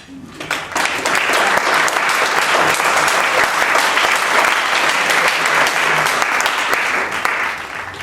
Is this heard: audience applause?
yes